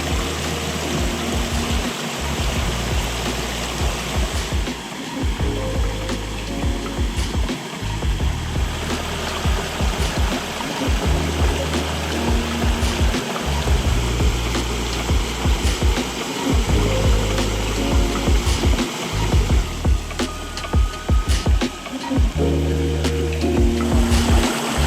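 Water from a backyard pondless triple waterfall spills and runs over sloped rocks, a steady close splashing and trickling flow that carries on without pause and without talk.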